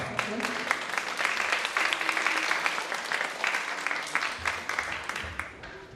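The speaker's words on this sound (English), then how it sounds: "give them a round of applause" An audience claps for eighth-grade percussion students at a spring world percussion school concert, a dense and steady round of applause that carries on for several seconds and only thins slightly toward the end.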